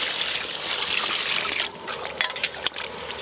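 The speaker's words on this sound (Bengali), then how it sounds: "আবারও জল দিয়ে দেবো।" Water pours into chicken curry cooking in a pot as a steady splashing trickle for over a second, then gives way to softer, irregular bubbling and a few small splashes.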